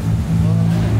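Forged 1JZ engine in a Nissan 350z drift car revving hard and close, a loud sustained growl with rising harmonics.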